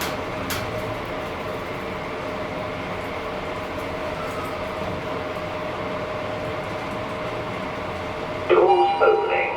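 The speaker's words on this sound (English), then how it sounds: "The train to Etisalat will arrive at platform 1." A Dubai metro train rolls into a platform with a steady, moderately loud rumble and hiss, closed by a sharp chime near the end.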